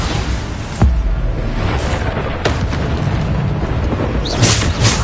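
Explosion spells cast in a Harry Potter video game, loud repeated booming blasts and bursts over a dense, constant roar of combat effects.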